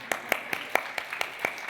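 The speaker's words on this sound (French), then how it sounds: "J'ai envie de l'applaudir encore." Applause for a speaker at a medical conference, a short burst of steady, evenly spaced claps that sound like a small group or a few people clapping close by.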